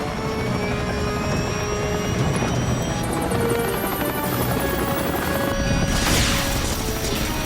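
Helicopter in an action sci-fi film with a failing rotor, a loud continuous rotor roar with engine whine and rising high-pitched electronic tones, steady and close throughout.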